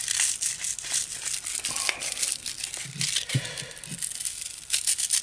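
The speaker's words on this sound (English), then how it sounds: "I have a couple little pieces of sandpaper from the Dollar Tree. Put those into, fold them up" Small pieces of cheap Dollar Tree sandpaper being folded up, close crinkly rustling and crumpling in irregular bursts with a few soft thumps of handling.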